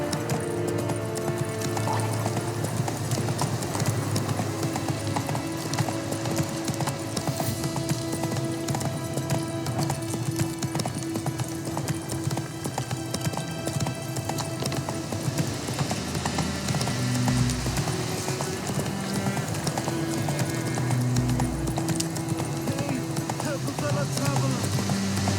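Roach the horse gallops in The Witcher 3, a steady rapid clip-clop of hooves running continuously over a busy background of game music and ambience, with a rider's voice calling out now and then.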